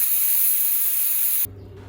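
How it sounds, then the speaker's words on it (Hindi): A pressure cooker holding soya pulao vents its leftover steam after two whistles, giving a loud, steady hiss that stops abruptly near the end, followed by a quiet low hum. "अब कुकर में 2 सीटी हो चुके हैं और इसमें से कुछ बची कुची हवा भी हम निकाल देंगे"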